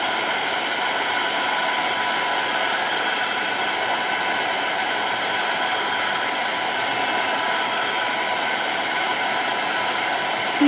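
A heat tool runs continuously to melt embossing powder, making a loud, steady, hissing blower rush that holds unchanged throughout.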